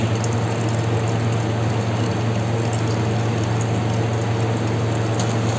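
Engine oil draining from a Yamaha R25 motorcycle into a container, a constant close trickling pour with a steady low hum beneath, no talk.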